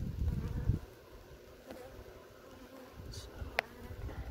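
A caught honeybee swarm buzzes softly and steadily during a quick hive inspection in light rain, with a few low thumps and brief louder ticks over the hum.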